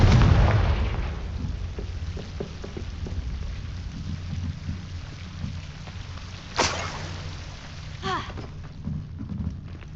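Confringo blasting spell cast in the Hogwarts Legacy video game: a sharp explosive burst near the start followed by a rumbling low tail, with a couple more crackling impacts later over game ambience.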